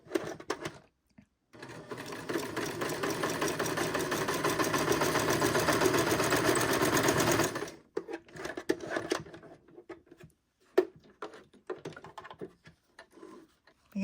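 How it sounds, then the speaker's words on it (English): Sewing machine running a twin-needle cover stitch on knit fabric: a steady, fast mechanical whir for about six seconds, then stopping, followed by scattered light handling clicks and taps. "I'm using a twin needle to do a cover stitch on, yeah, some of my projects."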